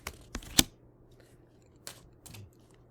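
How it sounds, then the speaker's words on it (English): A deck of cards is shuffled with a few quick riffling bursts close by, a sharp cluster near the start and two more later, separated by quiet pauses, with no talk. "I do have to keep learning how to shuffle this way."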